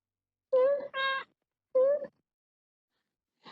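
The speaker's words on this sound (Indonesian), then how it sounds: "Sorry kucing gue lagi caper." A pet cat meows several times at close range in a quiet room, two quick cries back to back, another about a second later, then a short faint one trailing at the end.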